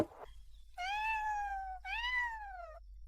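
A thin white cat gives two clear, drawn-out meows close by in a quiet setting, each call lasting about a second with a short gap between them.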